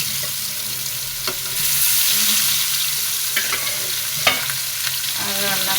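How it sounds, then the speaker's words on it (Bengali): Shing catfish fry in hot oil in a pan, a bright continuous sizzle that swells and crackles, with occasional scrapes and stirring clinks of a utensil, close and without talk. "শিং মাছটা একটু ভেজে নিই।"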